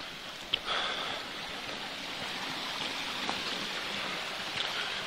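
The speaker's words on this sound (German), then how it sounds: "Hier am Rande ein kleines Bächlein." A small stream at the edge of a footpath, swollen after heavy morning rain, gives a steady, even rush of flowing water close by, with one faint tap early on and no voices.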